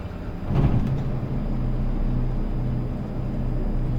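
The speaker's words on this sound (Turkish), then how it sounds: "Bir marşımızı yapalım." A bus engine in the Euro Truck Simulator 2 video game cranks and catches, then settles into a steady low idle rumble that stays loud and even throughout.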